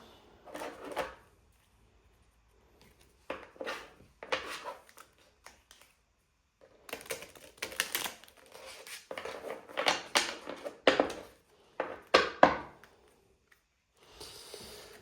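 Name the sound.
shuffling a deck of cards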